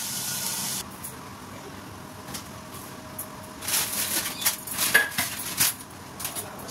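A metal lid is set on a cooking pot of salted vegetables at home, giving a few light clinks and rattles of metal against metal, fairly faint and close, with no talking.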